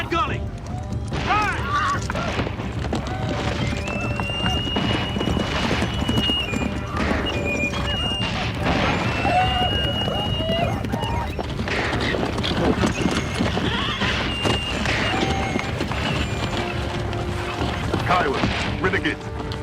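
Horses gallop in a frontier skirmish, with busy hoofbeats pounding throughout and sharp neighs and whinnies breaking through, mixed with shouting voices and scattered crashes.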